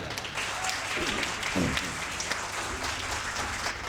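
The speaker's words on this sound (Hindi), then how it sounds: "आपकी तालियां मेरी थकान मिटाएगी। एक बार जरा बजा दो।" Crowd applause from an audience at a Hindi comedy poetry gathering, a dense steady patter of many hands filling the whole stretch, with a voice briefly heard over it.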